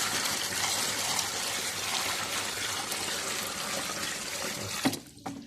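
Water pours steadily into a container for a betta fish, a continuous gushing splash close by that stops abruptly near the end.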